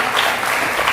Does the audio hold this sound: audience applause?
yes